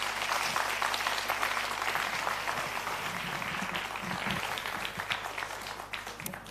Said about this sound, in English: We can give them some applause.